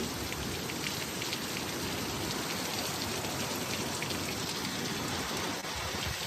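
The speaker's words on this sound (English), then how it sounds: "Pouring sheets of rain." Heavy pouring rain comes down in dense sheets, a steady, loud wash of drops hammering surfaces nearby without letup, with no voices present.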